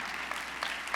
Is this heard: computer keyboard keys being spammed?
no